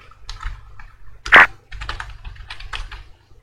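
Keys on a computer keyboard are tapped in short irregular bursts as a file name is typed, one louder clack standing out, close and dry against a faint low hum.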